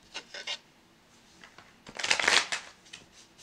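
A Rider-Waite tarot deck being shuffled up close, with two short riffles of cards at the start and a louder, longer shuffle about two seconds in.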